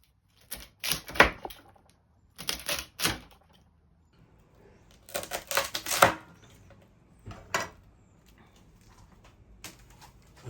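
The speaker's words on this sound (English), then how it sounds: "We just chop straight through. Cut through all of this." A knife chops straight through crispy pork belly cured with timur and kinema, landing in several sharp bursts of crunchy, cracking cuts on a board, separated by short pauses.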